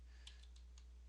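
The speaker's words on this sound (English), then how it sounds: "And then I'm going to type in" A handful of light keystrokes on a computer keyboard while typing a server address, four faint clicks spaced irregularly over a low steady hum.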